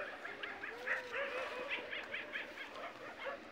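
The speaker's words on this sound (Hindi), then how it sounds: "मैं कहाँ से कुत्ते की टीम आ गई" Several dogs bark, yip and whimper at night in a faint, distant chorus of short, repeated calls.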